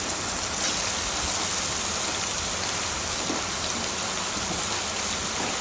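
Potatoes fry in hot oil for vegetarian chow mein, giving a dense, even crackling hiss at a constant level with no pauses or voices.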